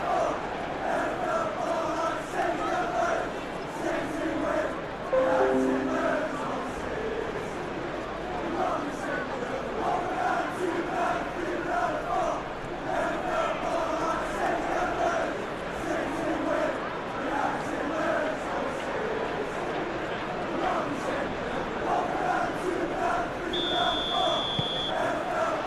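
Stadium crowd noise from a Manchester City vs Arsenal Premier League match in eFootball PES 2021: a steady, dense roar with chant-like swells that runs unbroken for the whole stretch, while faint tonal blips sit on top.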